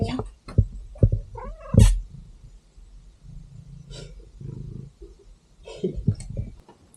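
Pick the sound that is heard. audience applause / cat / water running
cat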